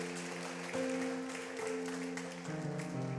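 Church congregation applauding during a celebration service, a sustained patter of many hands over a held organ or keyboard chord, moderately loud and continuous.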